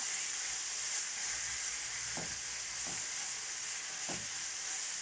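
Eggplant, minced meat, onion and peppers sauté in a pan with a constant, even sizzle, broken by three soft scraping stirs spaced a second or two apart.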